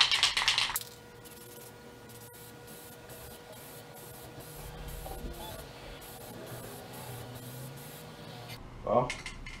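Aerosol spray paint hissing onto a large fishing lure, a faint steady hiss after a brief loud burst at the start, ending with a quick clatter.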